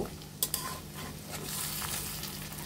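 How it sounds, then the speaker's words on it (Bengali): Rohu fish roe kofta balls frying in oil in a pan, giving a steady close sizzle with two sharp utensil clinks early on and a slight swell as the frying continues. "আমরা একে একে বোড়া কোপ্তাগুলো দিয়ে দিয়েছি। এখন আমরা উল্টিয়ে নিব।"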